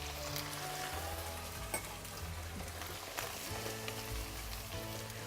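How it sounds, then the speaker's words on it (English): White wine poured into a hot pan for an orzo risotto sets off a loud, steady sizzle and crackle with scattered pops, running continuously without talk. "So in goes our white wine."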